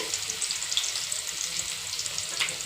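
Crushed garlic frying in oil in a pan, a soft, even crackling sizzle held steady at moderate volume with no voices.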